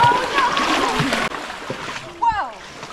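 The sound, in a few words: wading and splashing through knee-deep mud and water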